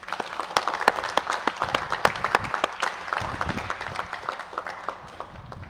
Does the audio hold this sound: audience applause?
yes